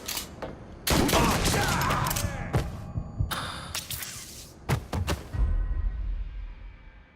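Gunfire in Mafia 3 cracks out in several loud, sharp bursts spread unevenly across the stretch, some single shots and some quick clusters, with echoing tails and brief quiet gaps between.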